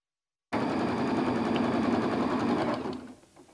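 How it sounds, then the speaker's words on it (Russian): Sewing machine stitching a gauze face mask, a steady rapid mechanical whir that starts abruptly, runs evenly for a couple of seconds, then slows and fades. "Швейная машинка, отрез марли, полчаса работы и маска готова."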